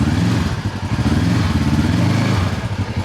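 Kawasaki utility vehicle engine idling steadily close by with a low, throbbing mid-range rumble and slight clatter, running alone on rural acreage in the early morning without speech.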